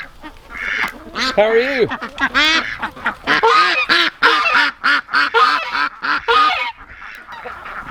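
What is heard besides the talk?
goose honking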